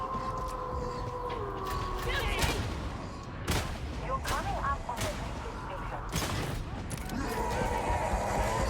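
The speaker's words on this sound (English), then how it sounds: "that was a lot of saturated fire down that bridge" Video game gunfire, with saturated shooting down a bridge heard as a steady wash of distant rapid shots and booms, mixed with game sound effects, no talk.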